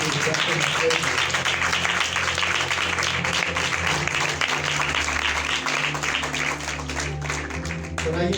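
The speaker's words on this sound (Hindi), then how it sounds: "आइए जोरदार तालियां बजाओ" A church congregation at a Hindi-Urdu service claps loudly and continuously, a thick wash of hands sustained throughout, with voices and other sound layered underneath.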